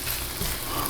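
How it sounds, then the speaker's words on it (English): A steady, close crackling sizzle of bacon frying in a hot pan, heard alone. "I can hear the bacon starting to sizzle."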